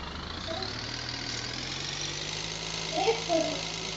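A video-game RV engine crawls along slowly in first gear with a steady mid-pitched hum and a low drone, a few brief chirps rising over it near the end.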